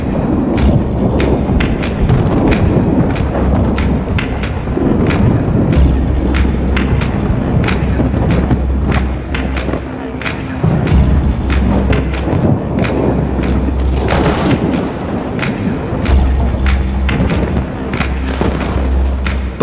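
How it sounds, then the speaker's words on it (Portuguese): A powerful northern Australian wet-season thunderstorm brings heavy, continuous rain and repeated deep rumbling thunder with sharp crackling strikes, loud and close throughout. "esta terra experimenta as mais poderosas e impressionantes tempestades do mundo"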